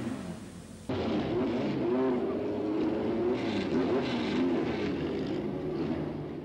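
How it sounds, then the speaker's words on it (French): A Martini LK37 Alfa Romeo Formula 3 race car on a circuit, its engine bursting in loudly after a moment and holding a strong, wavering whine that rises and falls in pitch as it runs, close and continuous. "Patrick Donnet est sur une Martini LK37 Alfa Romeo."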